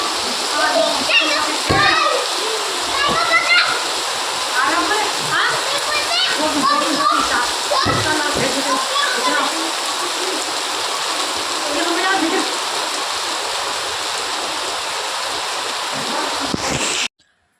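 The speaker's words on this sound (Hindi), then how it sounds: "कितनी भयंकर बारिश आई और दोनों बच्चे ना बारिश में खेलने लगे थे" Heavy monsoon rain pours and splashes steadily and loudly while two children play in it, their excited voices and shouts mixing with the hiss of the downpour until it cuts off abruptly.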